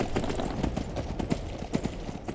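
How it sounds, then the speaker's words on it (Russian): A horse gallops through the Whiterun valley in Skyrim: rapid, rhythmic hoofbeats, close and steady, pounding in quick three-beat clusters across the clip over a rough outdoor background. "Можно даже припустить галопом."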